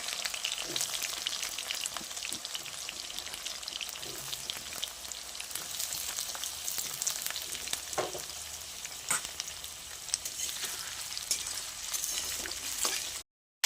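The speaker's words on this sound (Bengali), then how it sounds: "দিয়ে দিচ্ছি তাতে আলুগুলো একটু লাল লাল করে ভেজে নেব।" Potatoes frying in oil with bay leaf, cumin and chopped onion, giving a steady close sizzle with occasional stirring scrapes and crackles, no voices, stopping abruptly at the end.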